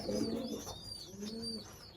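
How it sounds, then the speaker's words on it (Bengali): Pigeons feeding their chicks in a loft, giving soft, close cooing calls in two short phrases, quiet and alone. "এখানে কবুতরগুলো বাচ্চা খাওয়াইতেছে"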